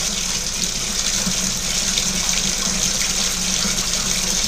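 Water gushes steadily from a spigot filling the spin can of a Hoover 0519 twin-tub washer, a constant loud hiss and splash without pause and with no talking.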